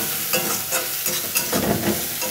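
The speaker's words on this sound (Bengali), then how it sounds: "আমি এবার পেঁয়াজটা কষতে থাকব।" Onion sautéing in a pan over a low flame, with a gentle continuous sizzle and soft repeated stirring scrapes at close range, for a masala dal.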